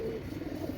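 Pakistani Kamagar pigeons, a pair sold as breeding birds, give a short, soft, low coo lasting under a second, heard close with no talk.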